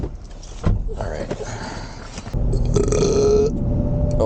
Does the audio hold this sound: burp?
yes